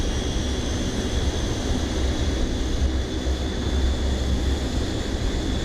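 Fokker 27 propeller engines in Microsoft Flight Simulator, on a landing approach to runway 25 at Pantelleria with flaps extended. A steady, loud turboprop drone with a constant tonal whine holds unbroken throughout.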